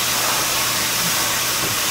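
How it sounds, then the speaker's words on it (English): Pork browning in a hot pan for chili gives a steady, dense sizzle that hisses evenly and continuously from nearby, with no voices. "It's got a good sizzle going."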